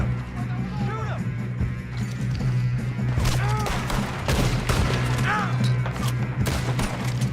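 Rapid volleys of gunshots crack and boom in a Red Dead Redemption II shootout, several close bursts clustering midway, with voices and shouting mixed under the fire.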